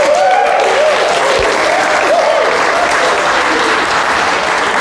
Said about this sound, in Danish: så på tre, når jeg 1, 2, 3 nu, så jubler vi sammen